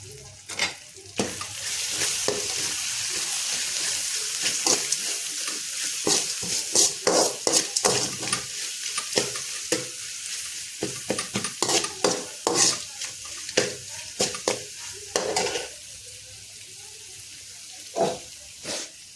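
Gongura rice mixture with turmeric, salt and a splash of water is stirred in a pan, a steady run of close scraping and clinking strokes over a soft background hiss, with no talking.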